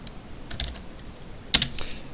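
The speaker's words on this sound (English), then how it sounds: "Let's go ahead and type email." Typing on a computer keyboard: a few soft keystrokes, then a sharper cluster of clicks, close and fairly quiet with no voice over them.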